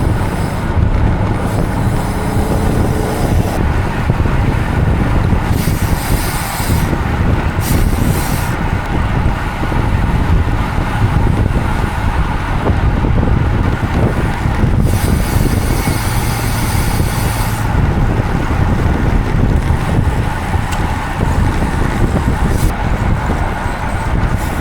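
Strong headwind buffets a steel road bike and its rider, making a loud, steady low roar that continues without a break and barely shifts in level.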